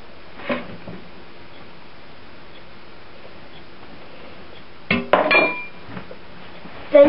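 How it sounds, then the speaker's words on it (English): A spoon stirs sugar and gelatin with tiny green tomatoes in a pot, giving a few sparse metallic clinks and scrapes against a quiet background. "Then you stir it all together."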